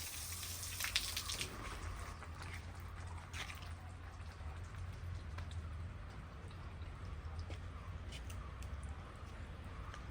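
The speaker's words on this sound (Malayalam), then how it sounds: "വെള്ളം തുറന്നു വിട്ടിട്ടുണ്ട് നമുക്ക് ഇതിനകത്തേക്ക് കൊടുത്തു നോക്കാം" Water is let loose and flows into a small farm test setup laid out in a yard. It makes a steady, faint rush with no one talking.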